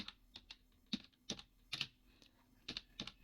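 Sparse, quiet keystrokes on a computer keyboard as a Kali Linux grep command is entered, single taps and short clusters spaced across the clip, close but faint and without speech.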